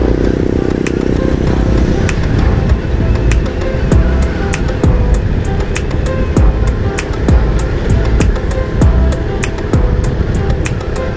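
A Honda XRM 125 motorcycle engine runs steadily while riding on a Sunday road trip around Roxas City, a loud continuous drone with wind rush and regular sharp clicks, with no talk.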